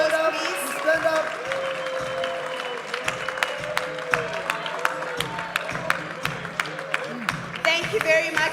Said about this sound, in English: let's give them a huge round of applause, please.